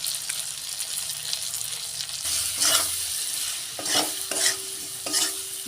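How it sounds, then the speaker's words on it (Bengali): Ground spices with a splash of water sautéed in a pan for a snakehead fish curry, a continuous sizzle broken by several bursts of louder stirring and scraping, close and steady. "জল দিয়ে মশলা তো ওখানে কষা হচ্ছে"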